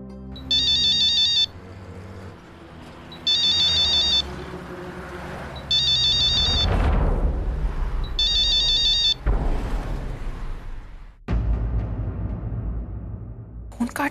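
A phone ringback tone sounds as a call is placed, four evenly spaced electronic ring bursts, clear and loud over low dramatic background music.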